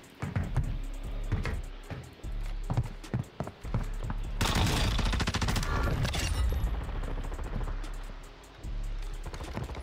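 Warzone 2 gunfire crackles in bursts of shots, some distant and some nearer, with a dense stretch of sustained rapid fire in the middle and no talking.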